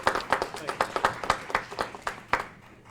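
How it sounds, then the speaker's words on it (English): A small group claps at a press conference for a newly named interim school superintendent, sparse distinct claps in an uneven rhythm that thin out and stop near the end. "Let's give him a round of applause, Dr. Shawn Joseph."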